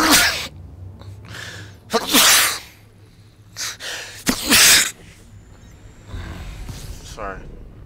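A few loud, sharp sneezes burst out one after another, close up, with breathy gasps and sniffs between them.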